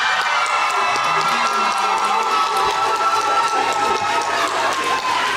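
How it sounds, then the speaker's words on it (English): A standing audience at a Black History celebration at LHS gives a rousing ovation, a dense, loud wash of clapping and cheering voices that stays steady throughout. "Could everybody stand up and give her a rousing applause?"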